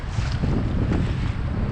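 Gusty wind buffets the microphone outdoors beside pilings over the water while fishing for blackfish (tautog), a steady low rumbling roar with no talking.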